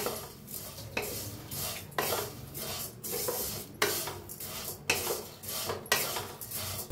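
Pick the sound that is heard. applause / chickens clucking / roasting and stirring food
roasting and stirring food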